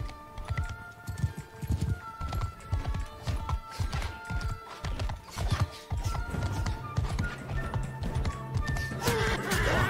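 Horses gallop in Mount & Blade II: Bannerlord, with loud rapid hoofbeats pounding under clashing battle noise, and a few tonal whinnies rising over the thudding rhythm; no clear talk.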